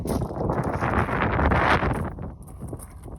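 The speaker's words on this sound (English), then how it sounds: "we got some wind out here" Wind blowing outdoors, buffeting the microphone in strong rumbling gusts that swell and then ease, with no talking.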